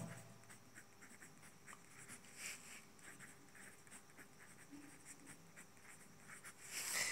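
A marker or chalk scratches faintly across a board as a teacher writes two exam questions during a lesson, with light, intermittent strokes in a quiet room.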